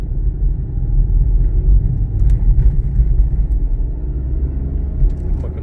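Renault Clio 0.9 TCe turbo petrol engine pulling under acceleration, a close, steady low rumble from inside the car with road noise, continuous and fairly loud.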